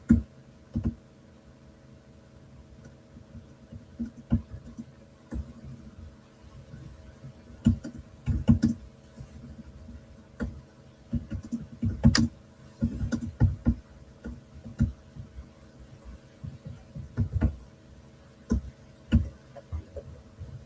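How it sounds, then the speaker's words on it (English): Someone types on a computer keyboard nearby, with irregular bursts of clicking keystrokes and short pauses between runs, fairly close and clear. "I'm typing to Tiger Stripes"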